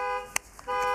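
A car horn or alarm somewhere nearby, heard as a faint, steady electronic tone that pauses briefly before resuming, with a small click in the gap, set against quiet indoor room sound.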